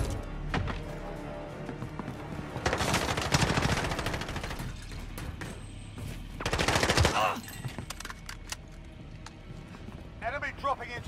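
Bursts of automatic gunfire in Call of Duty Warzone Plunder mode, two dense rapid volleys around the middle plus scattered shots, loud and close, with game voice callouts and effects around them.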